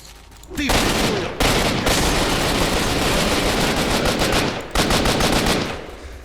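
Rapid automatic gunfire from a weapon in the S.T.A.L.K.E.R. video game, loud sustained bursts running nearly the whole time with a brief gap and a short break before a final burst.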